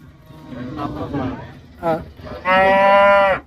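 A cow at a livestock market in Manapparai lets out a loud, close moo, with people talking and market chatter before it.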